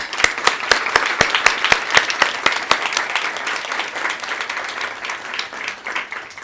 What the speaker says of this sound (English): Please, again, join me in a round of applause for Nihon Hidakuyo and the Nobel Committee